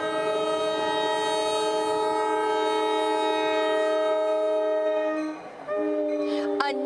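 An oncoming train bears down on a level crossing where a dark blue minivan is stuck across the tracks. Its horn blares as one loud, sustained, steady blast that dips briefly near the end and then resumes.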